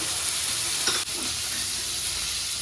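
Vegetables and cashews frying in a pan for a flattened-rice pilaf, giving a steady, close hiss of sizzling oil with a brief stir partway through.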